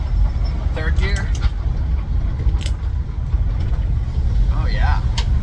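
Ford Bronco under rebuild driving in third gear on its first outing, a steady low engine and road rumble heard from inside the cabin, with people talking over it.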